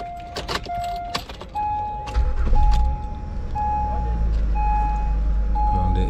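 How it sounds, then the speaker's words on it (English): A car engine cranks and catches partway through, then settles into a steady low idle rumble, with earlier key jingling and a repeating electronic chime beeping throughout. "Let me start this car."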